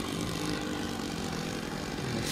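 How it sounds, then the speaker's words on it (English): A 1912 Blackburn monoplane, a vintage propeller aircraft said to have an old Anzani-style engine, runs steadily nearby with a continuous spluttery engine drone and no voices. "Spluttery old Anzani engine or something."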